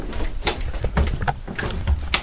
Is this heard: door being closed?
yes